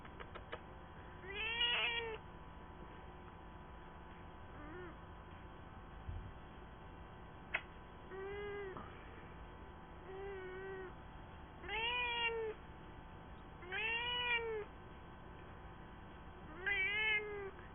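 A pet cat meows repeatedly, about eight short rising-and-falling cries spaced a second or two apart, fairly close but not loud, over a quiet room hum with no talking.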